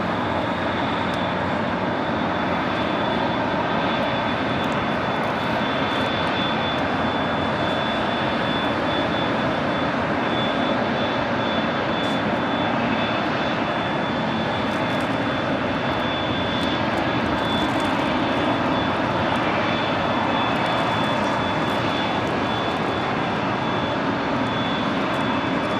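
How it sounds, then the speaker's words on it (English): A WestJet Boeing 737 arriving from Toronto touches down on runway 25 left at LAX, its engine roar steady and loud for the whole stretch, with a thin high whine riding over the broadband rumble. "we have a WestJet 737 coming in from Toronto, touching down on 25 left"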